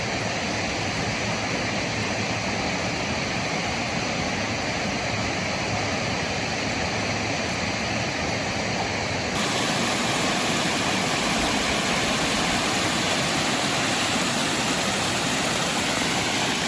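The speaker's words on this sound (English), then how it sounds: "We've made it to Fortescue Falls, just there." Fortescue Falls, a waterfall in Karijini National Park, Western Australia, gives a steady broadband rush of falling water that stays close and continuous throughout and shifts slightly partway through, with no talking.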